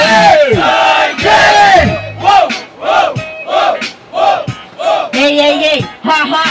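A rap battle crowd at Batalha do N9V shouts a chant back in unison, with loud rhythmic bursts of voices repeating in a call-and-response pattern, each burst followed by a short pause.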